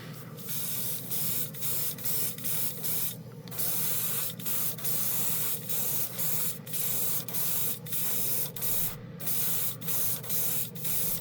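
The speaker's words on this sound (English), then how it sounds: "let me reload the airbrush" Airbrush spraying gold chrome candy tint paint in repeated short bursts, a steady close hiss pulsing on and off roughly once a second with brief gaps, with no talk over it.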